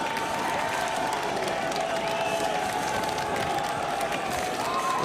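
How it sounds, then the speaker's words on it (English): A college football crowd roars during a third-and-goal play, a dense, sustained wash of cheering and clapping that swells slightly, with voices talking over it. "Crowd starting to get loud on 3rd and goal."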